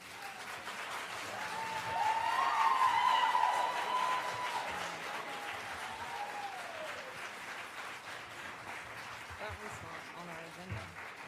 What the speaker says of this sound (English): you heard applause from folks there in the crowd at the Brevard County School Board meeting earlier this week as well